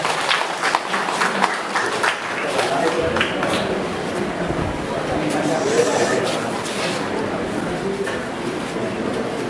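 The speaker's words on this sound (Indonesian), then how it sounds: "Tepuk tangan." A crowd claps at a cooperative annual meeting in an indoor hall, with continuous clapping and a background murmur of voices, moderately loud throughout.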